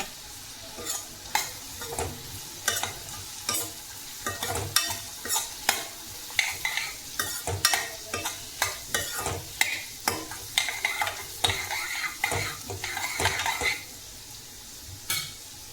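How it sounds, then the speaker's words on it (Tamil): Garlic and small onions sautéing in a pan for chutney, with steady sizzling and repeated sharp scrapes and clinks of a spoon stirring against the pan, close and fairly loud, with no talking. "பூண்டோட பச்சை வாசம் போகிற வரைக்கும் நல்லா வதக்கிக்கோங்க."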